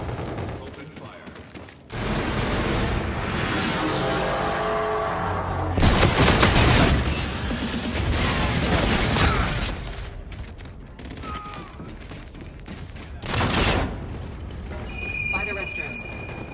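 Gunfire in the Call of Duty Infinite Warfare multiplayer beta, several loud bursts of shooting and rapid shots spread across the stretch, mixed with mechanical game effects and someone talking over parts of it.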